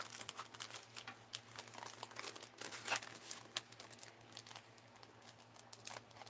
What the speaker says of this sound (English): Let's take that tape off.